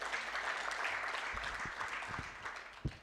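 Graduation ceremony audience applauds in a fairly faint, distant patter of clapping that fades over a few seconds, ending with a single sharper clap.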